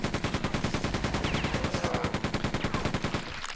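Rapid sustained automatic gunfire from Quake II gunner enemies in the video game, a dense machine-gun stutter of evenly spaced bursts at a fast steady rhythm, loud and continuous with no talk over it.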